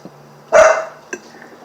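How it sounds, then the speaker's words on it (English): A dog barks once loudly up close, a short burst followed by a fainter second yelp about half a second later, with no talk over it. "can't do a mukbang without dogs barking"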